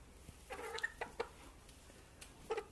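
A rooster gives a few short, soft clucks in quick bursts, faint and close, against a quiet background.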